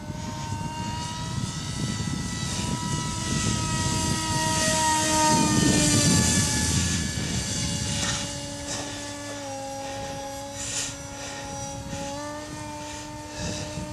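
An RC model airplane flies overhead with its electric motor giving a steady, high-pitched whine that swells louder in the middle, then eases and shifts pitch as it passes, and there is no talking.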